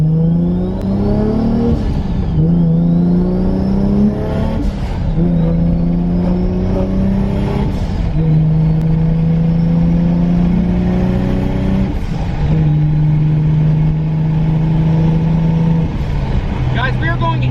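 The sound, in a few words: Toyota Supra with T56 Magnum gearbox cruising on highway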